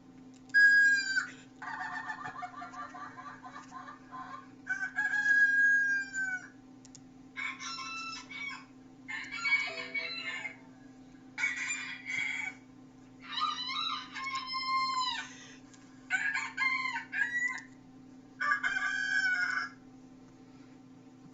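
A rooster crows over and over at close range above a steady low hum, each call a loud, ringing cock-a-doodle-doo burst separated by short pauses.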